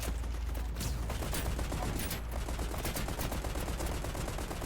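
Dense scoped rifle fire in the video game Sthell crackles in a continuous rapid volley at close range, loud and steady with no pauses.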